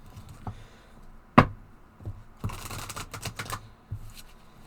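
A deck of cards being shuffled by hand, with a sharp riffle snap followed by a longer burst of fluttering card noise and a few soft taps, close and alone in a quiet room.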